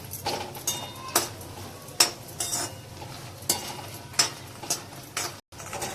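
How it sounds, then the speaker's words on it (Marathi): Makhana (fox nuts) roast in ghee in a kadhai, with a spoon scraping and tapping against the pan in repeated strokes over a low, quiet sizzle, close and clear. "आता त्याच्यावरती आपण हे मखाणे परतून घेऊया."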